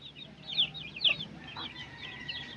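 A chicken clucks softly in a few short, scattered bursts at moderate distance, with faint farmyard background and no talking.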